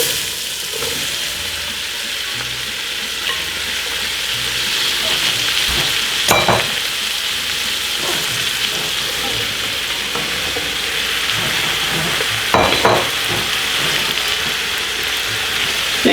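Onions frying in melted butter with garlic and thyme for French onion soup, a steady loud hiss of sizzling with two clattering stirs of the utensil against the pan.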